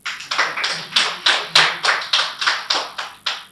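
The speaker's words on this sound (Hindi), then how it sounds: "आप सबसे निवेदन करता हूँ मेरे स्वागत में पहली बार जोरदार तालियां बजाइए।" Audience at a Hindi kavi sammelan poetry gathering clapping in a steady run of about a dozen sharp, evenly spaced bursts, near and loud, with no voices over it.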